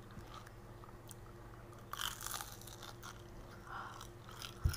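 Someone bites into crunchy turon and chews, giving quiet, close crunches in a couple of short bursts against a faint steady background.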